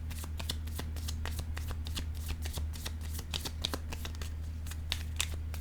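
Tarot cards are shuffled at close range in rapid, steady riffling bursts that run through the whole stretch over a low constant hum.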